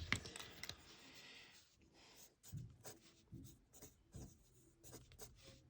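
A mechanical pencil with a harder lead scratches across paper in short, close, faint strokes, with small ticks and rasping pauses between lines.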